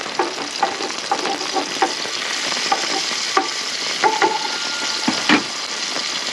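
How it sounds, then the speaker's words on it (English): Thai green curry paste being stirred in a sizzling pan, a continuous frying hiss broken by scraping and knocking of the utensil against the pan, fairly loud and close, with no talk. "Give that a bit of a stir."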